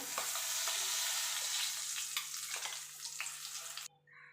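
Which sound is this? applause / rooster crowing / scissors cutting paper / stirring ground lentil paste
stirring ground lentil paste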